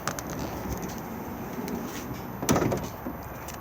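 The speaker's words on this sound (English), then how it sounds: "If we open the sliding door," The sliding side door of an Auto-Sleeper Symbol motorhome opens with a brief rolling rumble and a sharp clunk near the end, heard close up outdoors.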